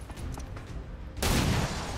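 Pistol gunfire in the video game XCOM 2, a sudden loud burst of shot noise that lingers after a quieter stretch of background game sound.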